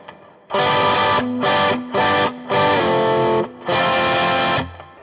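A PRS SE Custom 24 electric guitar plays through an amp with a crunch tone and only reverb on the pedal board: five loud, distorted strummed chord bursts with short gaps between them.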